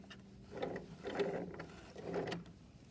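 A sewing machine back stitching a seam on pajama pants, running in three short mechanical bursts of rapid clattering needle action with brief pauses between them, close and moderately loud.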